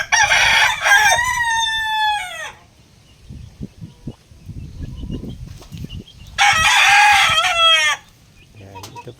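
Two loud, close rooster crows from a Nene Aguilar line broodcock in a backyard after heavy rain, each harmonic-rich call lasting about two seconds and separated by quieter rustling and low background noise.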